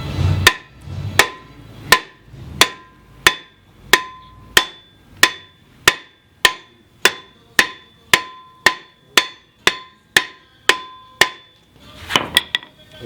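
Light hammer taps on the rear brake rotor of a 2016 Jeep Wrangler during a brake job: about twenty evenly spaced, sharp metallic knocks, close and clear, with no talking.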